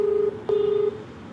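Touch-tone telephone keys are pressed while a call is placed, giving two clear, steady dialing beeps. The first is short and the second is longer, with no other sound around them.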